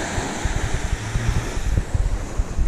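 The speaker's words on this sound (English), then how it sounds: "There's a couple of big waves coming in here" Sea waves break and wash onto a flat, sandy beach at Southbourne in Dorset, with steady gusty wind buffeting the microphone; a continuous nearby roar of surf and wind, with no talk.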